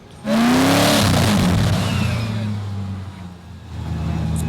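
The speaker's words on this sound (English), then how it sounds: "It sounds like a plane, even if you're driving slow." A Swedish-built Koenigsegg supercar, billed as the fastest production car in the world, roars loudly as it accelerates past close by, its engine note rising and then fading into a sustained, jet-like rumble.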